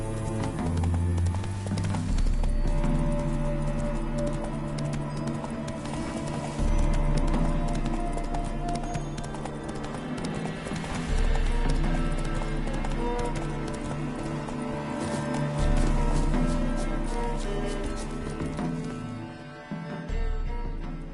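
A horse gallops in The Witcher 3 video game, a steady rapid drumming of hooves over game music and ambience that keeps a continuous running rhythm throughout.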